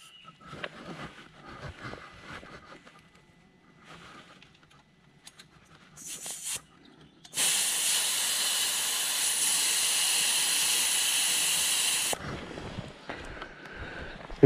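Air hisses steadily out of a BMW GS 1250 motorcycle tire as it is let down for off-road riding, a loud even rush lasting about five seconds after quiet fiddling and small clicks at the valve.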